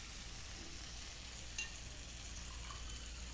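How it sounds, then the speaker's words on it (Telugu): Water poured into a hot tempering pan while making dhokla sizzles and hisses steadily, a continuous broad frying noise with no talking over it. "ఇందులో వాటర్ వేసుకోవాలి. తాలింపులో వాటర్ పోస్తామా?"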